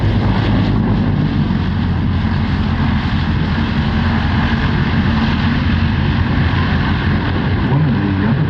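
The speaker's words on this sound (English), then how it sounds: "let's see how well he goes on this landing." A propeller-driven aircraft, a Neptune, lands at an airshow, its engines roaring loud and steady throughout with no break.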